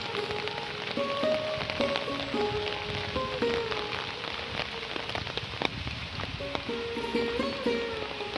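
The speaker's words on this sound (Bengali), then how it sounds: "ভালোই বৃষ্টি হচ্ছে এবার" Heavy rain falls over a flood-prone village of houses, courtyards and roads, a dense, continuous patter of drops on surfaces with faint tonal sounds running underneath.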